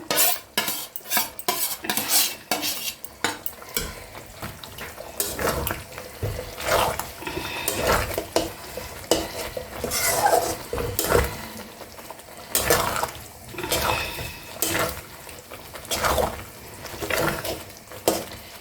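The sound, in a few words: fried chicken pieces added to a covered pan and stirred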